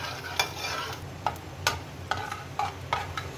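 Five or six dried red chilies and ginger fry in hot oil while a spoon stirs them, a steady close sizzle punctuated by regular scraping clicks about every half second, with no voices.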